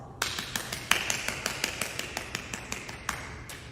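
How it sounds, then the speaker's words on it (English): Applause at a school awards convocation for National Honor Society members: a thin, evenly paced run of claps from a small group, fairly quiet and distant, continuing for several seconds. "Let's give our NHS members a round of applause."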